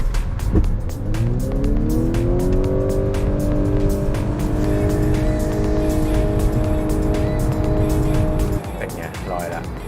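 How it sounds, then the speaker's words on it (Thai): A Honda Accord e:HEV hybrid with two people aboard accelerates hard from 0 to 100 km/h, a steady rising drive whine holding loud and close from start to finish before easing off near the end. "เดี๋ยวเราไปทำศูนย์ถึงร้อยกันดีกว่า"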